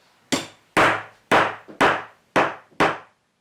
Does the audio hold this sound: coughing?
no